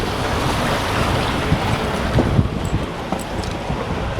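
A Suzuki Jimny fords a river on a village road in Uttarakhand, its passage a steady broadband rush of churning water and wind noise, continuous and close throughout, with a few small splashes and knocks.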